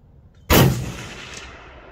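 A single loud shot from a Bergara B-14 HMR rifle firing Federal Gold Medal Match 168-grain boat-tail hollow-point rounds at a target, a sharp sudden crack followed by a long rolling echo that fades outdoors.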